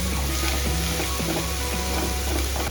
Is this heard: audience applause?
no